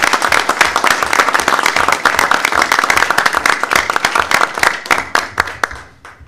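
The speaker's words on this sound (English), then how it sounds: "we need a big round of applause for our coaches" Loud, close audience applause and clapping at a high school board of education meeting for the coaches of a championship team, dense and vigorous before thinning into scattered claps and fading out at the end.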